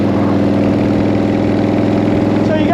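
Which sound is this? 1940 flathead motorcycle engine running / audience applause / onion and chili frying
1940 flathead motorcycle engine running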